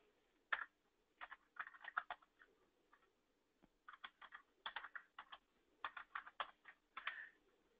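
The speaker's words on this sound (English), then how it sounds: "Thanks for your patience as I type all these numbers out." Numbers typed on a computer keyboard during data entry, heard as quick bursts of close, crisp key clicks in irregular clusters with short pauses between them, no talking.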